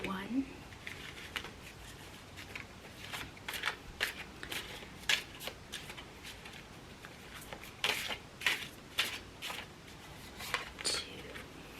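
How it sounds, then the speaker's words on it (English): Tarot cards are shuffled roughly and pulled in a soft ASMR setting, giving close, quiet riffling bursts and crisp paper snaps at an irregular rhythm, with a soft voice speaking. "Now I'm going to pull 5 cards."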